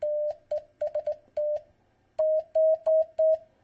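Short electronic audio tones from a homebuilt iCW amateur radio interface with a tone control, stepping in pitch across roughly 600 to 750 Hz, heard as a series of clean beeps of varying length with brief gaps, fairly close and clear with no talk.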